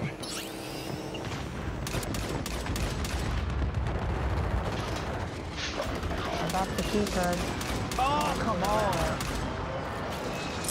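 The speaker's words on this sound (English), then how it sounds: "I was trying to hit him with that rocket, but it reloads too damn slow." Dense video-game gunfire with booming rocket launcher blasts, a steady barrage of rapid shots and explosions throughout, with a voice talking over parts of the battle.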